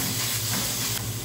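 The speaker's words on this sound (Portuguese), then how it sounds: "Enquanto a nossa carne moída está refogando" Ground beef sautéing in a pan gives a steady, close sizzle and hiss that runs unbroken, with no talk over it.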